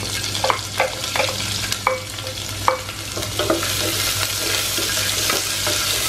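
Sliced onion sautéing in a pan for sweet corn pulao, with a steady close sizzle broken by repeated sharp scrapes and knocks of a spoon stirring against the pan, and no talking.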